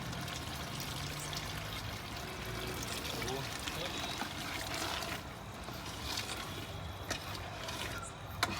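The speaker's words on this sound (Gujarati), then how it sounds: "થોડુંક પાણી રેડશું" A little water is poured into a simmering pigeon-pea (tuvar) gravy in a home kitchen, a soft, steady splashing trickle that runs for several seconds against faint background noise.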